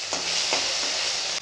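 Sugar, bay leaf and ginger-garlic paste hit hot oil in a wok, producing a brief, loud, dense sizzle that holds steady throughout, with faint scrapes from stirring underneath.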